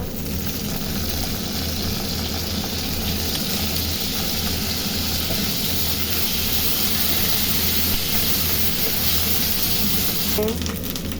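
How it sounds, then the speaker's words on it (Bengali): Chopped onion fries in hot oil for an egg korma, with ginger and garlic going in, making a steady, loud, close sizzle and hiss that never lets up. "পেঁয়াজটা একটু ভেজে নিয়ে এখন আদা রসুন দিয়ে দেব"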